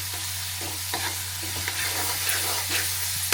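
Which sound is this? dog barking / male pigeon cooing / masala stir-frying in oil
masala stir-frying in oil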